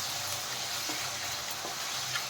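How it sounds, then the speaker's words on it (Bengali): Capsicum and mushroom pieces frying together in hot oil, a steady close hiss of sizzling broken by a few faint stirring clinks, with no voices. "দেখেন ক্যাপসিকাম আর মাশরুম একসাথে আমি ভেজে নিচ্ছি।"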